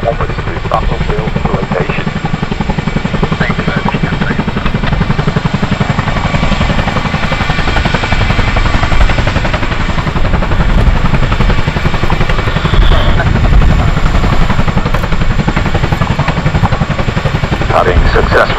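A Chinook helicopter flies a 2024 role demo at the RAF Cosford Air Show, its heavy rotor thrum loud, dense and unbroken throughout, with a commentator's voice running over it.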